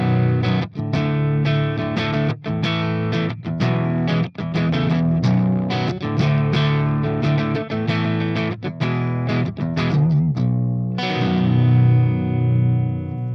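Heavily distorted electric guitar through an Orange Rocker 15 Terror amp, a tiny bedroom doom amp, playing loud, sustained chugging chords and riffs with short rhythmic breaks, ending on a ringing chord, with no talking.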